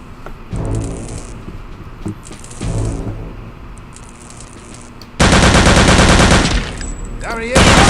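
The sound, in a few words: machine gun firing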